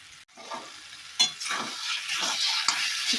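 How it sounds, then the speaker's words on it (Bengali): Spice masala for Bengali ghugni is stir-fried in a pan, a continuous close sizzle broken by rhythmic scraping strokes of the stirring spoon. "মিনিট দুই ধরে মশলাটাকে কিন্তু আমাকে কষাতে হবে"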